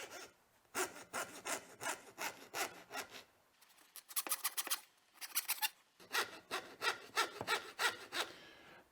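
A fine-bladed jeweler saw cuts through paua shell for inlay with quick, rhythmic rasping strokes in bursts, close and fairly quiet, with short pauses between runs.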